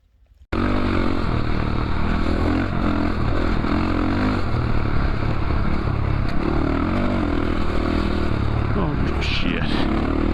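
A KTM 690 motorcycle rides a sandy desert track, its engine a loud, steady, close droning roar that holds without a break from just after the start to the end.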